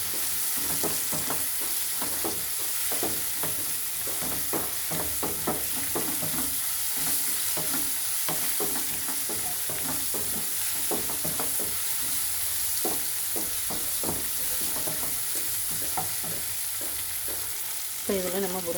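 Tomatoes with turmeric frying in a pan, heard as a continuous close sizzle broken by repeated scraping stirs of a spoon against the pan, steady throughout with no talk.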